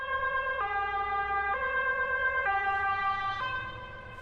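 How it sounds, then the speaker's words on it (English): An ambulance siren from the rhythm game Vivid/Stasis wails in a steady two-tone cycle, switching pitch roughly every second, loud and close throughout, then fading slightly at the end. "Holy fuck, ambulance!"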